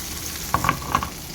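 Tempering of curry leaves, cumin, round dried red chillies and garlic in hot oil, a steady sizzle with a couple of brief sharper crackling bursts midway.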